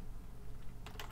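Quiet keyboard typing while entering a short comment, soft key clicks under a low background hum, ending in a quick flurry of keystrokes.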